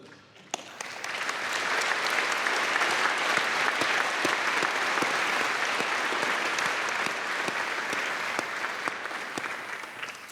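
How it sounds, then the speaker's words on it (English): A large audience claps steadily at a university graduation ceremony for law graduates, the applause even and sustained throughout, with individual sharp claps standing out near the front. "while there has been much applause, it has been somewhat polite and perhaps a little tepid by modern-day standards"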